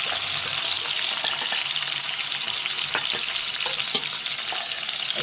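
Small prawns dropped into hot oil with tempering spices for a banana flower dish, a dense, bright, loud sizzle close up with a few stirring clicks, no talking.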